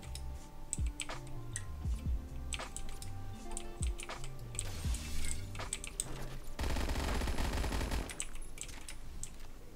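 PPSH-41 submachine gun fire in the Phantom Forces video game, quick repeated shots in short bursts over background game sounds, ending in a sustained noisy stretch.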